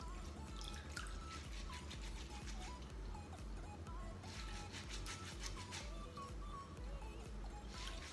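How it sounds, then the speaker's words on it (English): Water drips and trickles with small splashes as rice grains are swirled and rubbed by hand in water, a steady wet sloshing close by with no talking. "I'm gonna wash the rice on the water like this"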